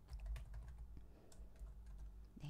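Typing on a computer keyboard while entering a value into a spreadsheet, a quick run of close, clicky keystrokes heard alone at low level.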